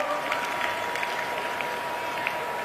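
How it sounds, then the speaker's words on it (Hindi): Applause at a religious competition prize ceremony for a temple's annual festival, a faint, steady patter of hands with a few sharper claps, fairly distant and continuous. "तालियां बजती रहे, तालियों में कमी न हो।"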